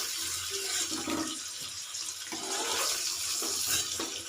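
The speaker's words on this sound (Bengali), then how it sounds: "আমি পনিরগুলোকে একটু নুন জলের মধ্যে তুলে নিচ্ছি।" Paneer pieces drop into a bowl of salted water, a soft watery sloshing and splashing that runs continuously and quietly for a few seconds with no speech.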